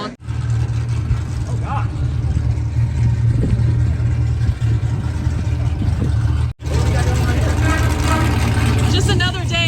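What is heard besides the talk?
car engine revving at drift day track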